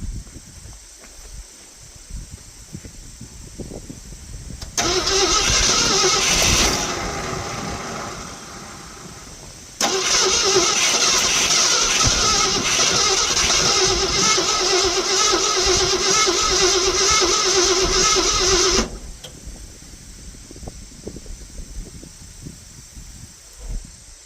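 A 1970 Ford F100 pickup that sat for years cranks with a repetitive starter whir in two bursts of about five and nine seconds, catching and firing briefly before it stops, loud and close with quiet gaps between.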